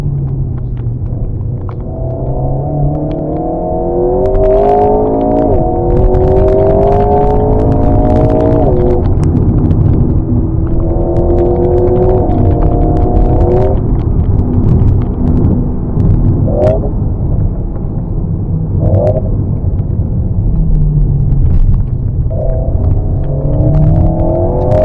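Race cars brake and accelerate through a chicane at the Les Essarts circuit in 2023, engines rising and falling in pitch as several pass in succession, loud and continuous over a low rumble with no talk.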